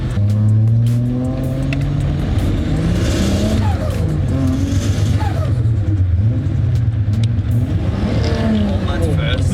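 A turbocharged Ford Falcon AU engine revs hard in first gear and climbs in pitch as it accelerates, loud and close, with people talking over it.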